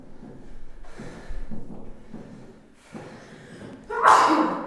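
One sharp, loud sneeze bursts out near the end, after some quiet breathing and rustling, in a gym.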